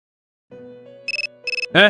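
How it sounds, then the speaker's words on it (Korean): A mobile phone rings in the game Persona 3 Portable: a soft sustained tone, then two quick bursts of four bright electronic beeps each, ending on a louder chime. "휴대전화가 울린다."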